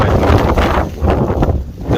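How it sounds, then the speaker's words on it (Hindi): Wind blowing outdoors at a school prize-giving ceremony in Dadyal, Azad Kashmir, heard as a steady, rough broadband rush against the microphone that dips briefly and then surges again. "मीठी मीठी हवा चली रही"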